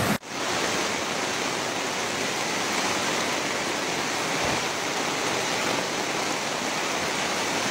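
A flash flood torrent roars past a collapsed wooden bridge, a loud, constant, close rushing wash of water that starts abruptly and continues unbroken throughout.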